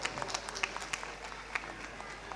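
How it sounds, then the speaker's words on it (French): Studio audience applauding contestants on a French television cooking competition, a soft, fairly faint patter of clapping held steadily for a couple of seconds. "Applaudissements pour eux également."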